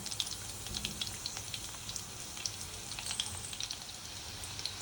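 Crushed garlic and bay leaves sizzling in hot oil for a spicy village-style black chicken curry, a steady soft crackle with scattered small pops, close and fairly quiet.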